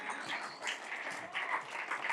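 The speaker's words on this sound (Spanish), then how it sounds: "Dale un aplauso fuerte a Dios." A church congregation applauds with a soft, distant wash of steady clapping, and faint voices mix into it.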